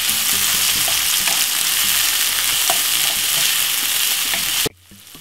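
Vegetables for fried rice sizzle and spit steadily in hot oil, a loud continuous frying hiss with scattered pops and stirring clatter, cutting off abruptly near the end.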